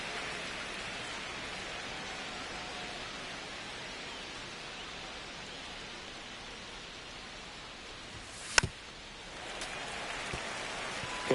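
Steady rain falls on a baseball field in MLB The Show, an even, hissing wash of drops that runs without letup, broken only by a brief sharp knock near the end.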